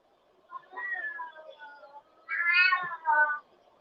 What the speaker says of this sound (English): Just my fucking cat in the background.